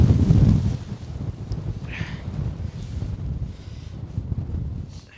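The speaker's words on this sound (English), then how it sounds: "It's always slightly tougher in the wind." Strong wind buffeting the microphone at a winter wild camping spot in sub-zero cold, a loud continuous low rumble with gusty swells throughout and no voices.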